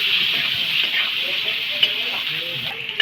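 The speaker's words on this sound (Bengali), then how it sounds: "আলুগুলো ভেজে নেবো।" Potatoes frying in hot oil for a fish and potato curry with turmeric and salt, a steady loud sizzle and crackle running throughout with a couple of brief clinks near the end.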